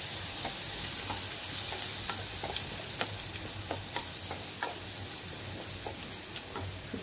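Radish fry stirred with turmeric in a pan, a steady soft sizzle under light scraping clicks of the spoon, close and fairly quiet, no voices.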